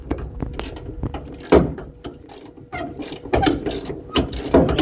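A ratchet wrench loosens a bolt on the rear bumper of a 1979 Chevy Camaro Z28 during restoration bodywork, giving close, irregular bursts of metallic clicking with short pauses between strokes.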